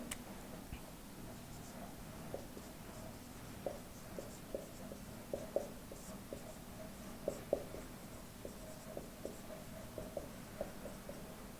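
Chalk or marker strokes on a classroom board as a teacher writes out a list of points, steady scratchy taps and short squeaks repeating through the whole stretch, close and clear with no talking.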